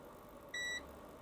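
A multimeter in continuity mode gives a single steady electronic beep lasting about a quarter second as its probes touch small circuit pins on a DFB1r5 board, standing out clearly over a quiet background.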